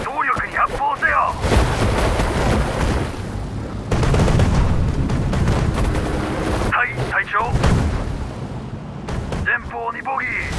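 Gunfire and explosions from battle in the video game Sudden Strike 4, loud sustained bursts and booms packed densely together, with radio-style voice lines calling orders in between.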